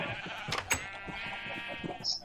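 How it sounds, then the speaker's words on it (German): Sheep bleat in the video game Minecraft, a clear drawn-out wavering call up close, with game sounds around it and a voice faintly in the background. "Die Schafe sind bei dir oben auf dem Dach."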